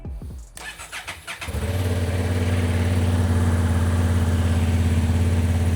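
A cold 2025 Honda CB750 Hornet parallel twin on its stock exhaust cranks for about a second with a rapid starter whir, catches, and settles into a steady, pulsing low idle heard up close.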